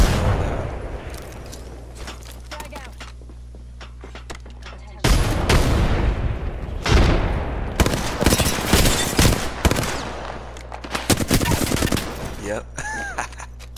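A frag grenade goes off in a squad shooter video game: a sudden loud blast cuts in midway, amid rapid gunfire bursts and repeated booming shots, dense and close throughout.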